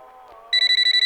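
A mobile phone alarm bursts in abruptly, a loud run of rapid, evenly pulsed electronic beeps cutting through a quieter tone.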